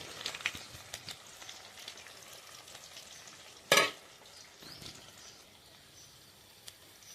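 Cauliflower pieces fry in well-heated oil with a faint, steady sizzle, broken once midway by a brief louder crackling burst.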